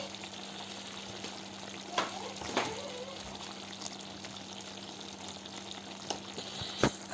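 Masala and spices for a homemade goat curry being mixed in a cooking pan. A faint, soft sizzle carries a few scattered scrapes and taps from stirring.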